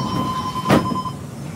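A Howrah metro train runs underground, with a steady rumble and a brief louder whoosh or clatter midway under a sustained electrical whine; no speech.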